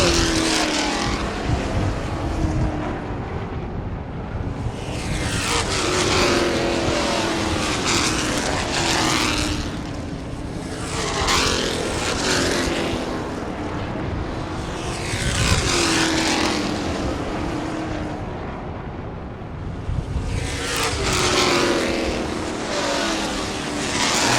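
Race cars (modifieds, street stocks and limited late models) roar around an oval track, loud engine waves repeatedly swelling and fading as the pack passes close by, lap after lap.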